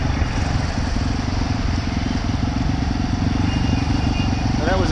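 A motorcycle engine drones and idles steadily nearby on a road in traffic.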